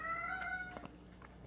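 A house cat gives a single clear, drawn-out meow up close, followed by softer short chirps and rustling against a quiet room background.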